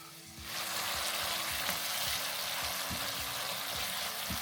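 Buckwheat sizzles steadily in a hot pan over high heat, a constant bright crackle that starts abruptly and continues, with faint stirring knocks underneath.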